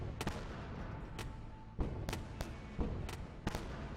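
Heavy concentrated weapon fire in the space combat game Wayward Terran Frontier: Zero Falls, with sharp booming shots hitting at irregular intervals over a constant rumbling battle din.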